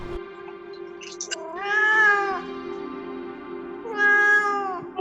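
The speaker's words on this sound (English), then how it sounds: "I know, you're meowing" A house cat meows loudly and insistently while waiting for food, giving two long drawn-out meows after a few short chirps, close by with a steady low hum underneath.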